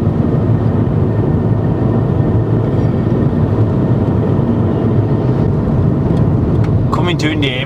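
A car overtakes on a road in India, heard from inside a moving vehicle as a steady, loud road and engine roar that stays constant throughout, with a brief sharp squeak near the end.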